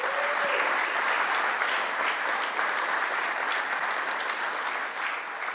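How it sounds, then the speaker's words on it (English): A conference audience at a general session breaks into sustained applause, loud and dense clapping from many hands that carries on for several seconds before easing off slightly. "Let's give them a round of applause."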